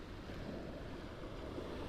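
Waves rolling onto the shore under steady wind, a continuous broadband wash of surf with no distinct breaks, close and moderately loud throughout.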